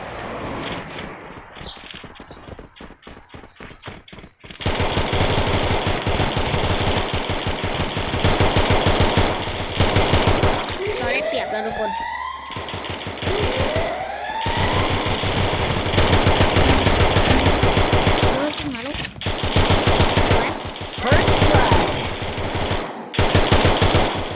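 Continuous automatic gunfire from a video game shooter, loud and close, running as long rapid bursts with brief pauses and a few sharper shots.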